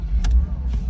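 A 2000 Porsche Boxster S engine catches at the turn of the key and settles into a steady idle, close and fairly loud, over barely a second with a brief higher whir early on.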